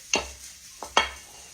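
Onions frying in a pan at a country-fried-steak meal, heard as a soft sizzle broken by three sharp scrapes or clatters, close and fairly quiet, with no voices.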